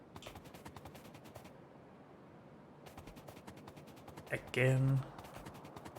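Turrets in Factorio fire in rapid, evenly spaced cracking bursts that pause briefly and resume, set under a loud tonal blast near the end, while someone talks briefly over the shots.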